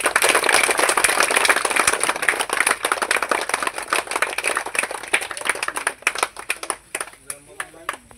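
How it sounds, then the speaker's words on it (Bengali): An audience at a small home gathering claps in a dense burst that gradually thins into scattered, fading claps, with voices heard during the applause. "সবাই হাততালি দাও"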